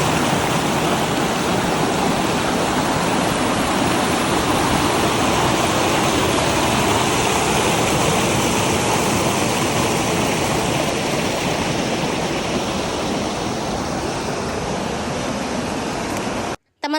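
Broad, constant rushing of river water while wading across a river, loud and close, a dense unbroken wash that cuts off abruptly at the end.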